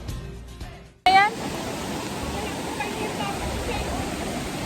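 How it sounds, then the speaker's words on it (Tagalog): A cold mountain river rushes in a steady, loud wash of flowing water as people wade through it, following a brief quieter moment at the start. "Naglalakad kami sa ilog."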